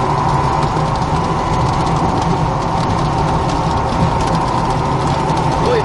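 Engine of a 2015 Jeep Wrangler Sport 4WD driving down the road, a steady loud drone with road and wind rumble that holds evenly throughout, with no talking.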